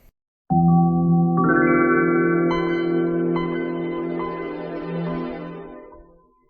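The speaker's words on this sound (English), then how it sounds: "the sound when you turned on Windows 95." The Windows 95 startup chime swells in after a brief pause, layered shimmering bell-like electronic tones ringing together, then slowly fading out over a few seconds.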